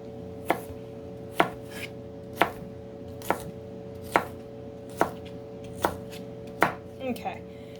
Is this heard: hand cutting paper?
no